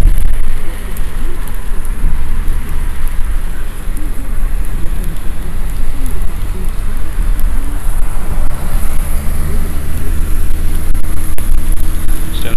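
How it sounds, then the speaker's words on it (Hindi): Heavy rain in Dubai near the Sharjah airport, drumming loudly and continuously on a moving car with broken wipers, a dense close hiss over low road rumble. "देखो बारिश कितनी तेज़ हो रही है।"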